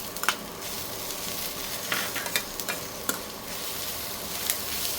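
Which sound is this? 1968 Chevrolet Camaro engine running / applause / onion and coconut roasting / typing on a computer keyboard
onion and coconut roasting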